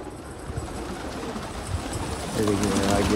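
A pigeon settles onto its perch and coos softly at close range, amid a fight between pigeons. People talk over the bird throughout.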